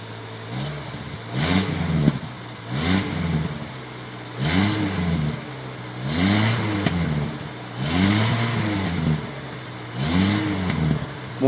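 A Renault 4 car engine revs up repeatedly, six or seven rising bursts of acceleration about every 1.5 seconds with a steady idle between them, loud and close with no voices.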